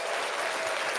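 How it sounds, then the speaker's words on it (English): Dense, continuous applause from a standing crowd at a live show, loud and even for the whole short moment. "You got a standing applause for that."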